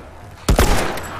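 A couple of loud, close gunshots ring out in quick succession in The Last of Us, followed by a short fading echo.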